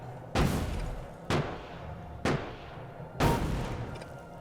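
Four sharp rifle shots ring out at roughly one-second intervals in the Factorio video game, each a loud crack with a brief decaying tail, aimed at walls, with no voices.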